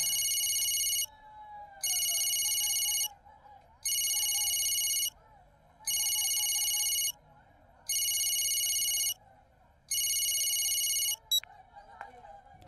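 A lost mobile phone lying on a road rings in six even, loud bursts with short silent gaps between them, then cuts off, leaving faint background noise.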